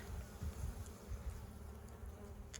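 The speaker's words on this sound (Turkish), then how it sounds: "Yok canım arı." Honeybees buzz at a beekeeping site during the honey harvest in Konya, a low droning hum with passing louder swells, near and continuous, without speech.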